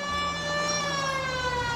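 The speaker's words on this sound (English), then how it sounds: "Turn on the siren and pull her over." Police car siren from the video game L.A. Noire, a steady electronic wail with strong stacked harmonics, loud and continuous over a low engine rumble.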